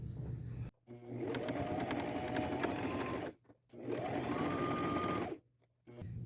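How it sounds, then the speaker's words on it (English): Domestic sewing machine running a zigzag stitch to sew heart appliqués onto an old pair of denim jeans, heard in two steady close-up bursts of about two seconds each, with brief pauses between. "I'll stay close to the edge with a zigzag stitch."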